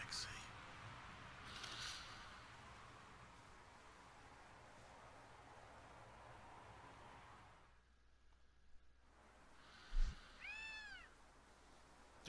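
Cat meows from a PlayStation controller speaker during Gravity Rush, a short series of clear mews near the end with a low thump just before, following a stretch of background game ambience.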